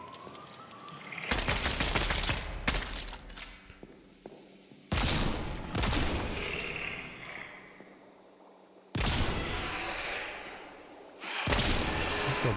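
Gunfire in the first-person shooter Kvark comes in long, loud automatic bursts, several sustained volleys separated by short pauses, with no voices.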